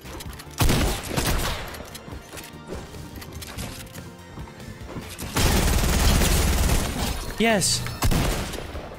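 Video game gunfire crackles in dense bursts as players fight, with smashing impacts and a swelling burst of shots near the end, heard under a person's brief spoken word.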